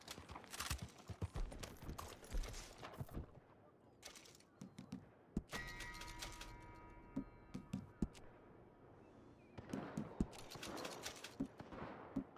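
Faint hoofbeats of a galloping horse in Red Dead Online, rhythmic clip-clop mixed with scattered shots and ambient game noise.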